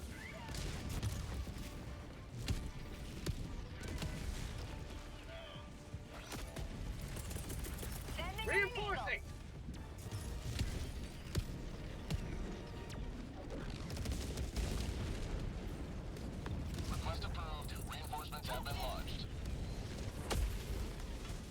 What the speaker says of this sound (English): Orbital inbound. Firing orbital barrage.